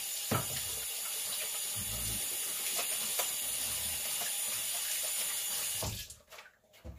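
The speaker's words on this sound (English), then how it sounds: "Let me wash my hands real quick" A running sink tap in a home kitchen pours steadily for several seconds while hands are washed beneath it, a close continuous hiss of water that cuts off near the end.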